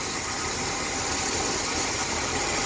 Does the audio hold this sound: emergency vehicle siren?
no